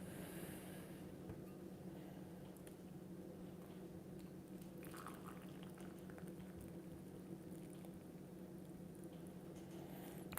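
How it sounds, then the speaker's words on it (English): Celestial Seasonings Sweet Harvest Pumpkin Black Tea being poured into a cup: a steady, quiet liquid stream that runs without pause, with no voices. "let's pour this tea."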